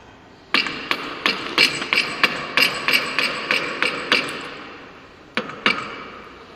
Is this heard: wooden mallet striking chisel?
yes